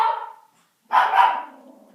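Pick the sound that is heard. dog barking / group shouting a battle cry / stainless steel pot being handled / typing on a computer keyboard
dog barking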